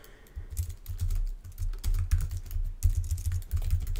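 Continuous typing on a computer keyboard while writing an HTML paragraph, close and steady with rapid uneven clicks and brief pauses, with no talking.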